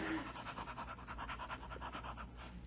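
A dog pants rapidly and rhythmically, close up, a steady run of quick breaths with no other sounds.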